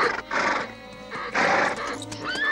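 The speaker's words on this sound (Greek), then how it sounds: "Τρέχα, τρέχα, τρέχα καταραμένο γαϊδούρι." Donkey braying in a Greek audio drama of Cervantes' Don Quixote, loud, strained honking bursts that rise and fall in two long waves with a final squeal, close and alone without talk.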